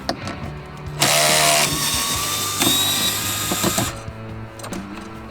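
A ratcheting tool with a 7mm socket working glove box bolts loose inside a Ford Fusion cabin, loud close buzzing and clicking bursts between quieter mechanical handling noises, no talking.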